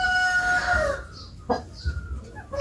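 A hen gives a few short clucks close by, with a faint crowing-like call fading at the start and a steady background hum.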